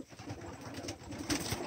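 Pigeons coo and stir close by as a door opens to the outside, soft repeated cooing over a dense, rustling background, no voices.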